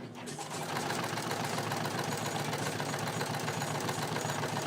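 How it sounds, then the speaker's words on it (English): A sewing machine stitches trouser fabric in a dense, even mechanical whir. Its rapid needle rhythm starts up within the first moment and runs steadily and close by to the end. "I'm sewing this on the right side"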